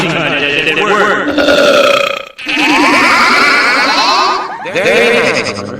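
Long, loud, croaking belches from a cartoon man, three drawn-out bursts with brief pauses between them, rumbling and gurgling throughout, with no talk.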